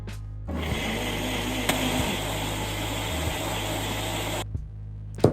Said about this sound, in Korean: 믹서에 잘 갈아줍니다.